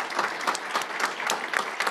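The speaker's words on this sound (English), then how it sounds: "Let's give her a round of applause for her" An audience at a symposium gives a steady round of applause, many hands clapping in a dense, even patter, fairly close and with no talk over it.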